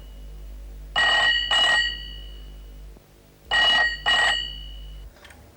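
A telephone rings loudly and close in a quiet room, two double-burst rings with a short pause between them and no talk over them.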